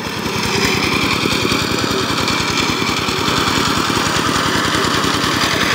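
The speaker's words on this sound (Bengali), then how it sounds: "পাওয়ার টিলার এসিআই 20 ইঞ্জিন দিয়ে কাদা জমি চাষ করা হচ্ছে।" A power tiller with an ACI 20 engine ploughs a muddy field, giving a loud, steady engine drone with a rapid, even chugging pulse that runs without a break from start to finish.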